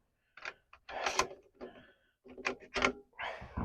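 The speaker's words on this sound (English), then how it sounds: "Let's get the bolts out and compare the bolts." Metal clicks and sliding scrapes as the bolt is drawn from a Taurus Expedition or Ruger American bolt-action rifle, several close, sharp mechanical clacks with short pauses between them, no talking.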